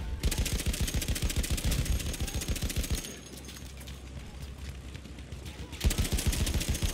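Rapid automatic gunfire in the video game Battlefield 1 rattles in fast, loud bursts, a long burst, then a quieter gap with low rumble, then another close burst.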